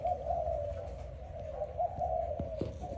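A Malaysian spotted dove coos close by in a steady, rhythmic series of soft, hollow low calls, continuous over a faint background with no voices.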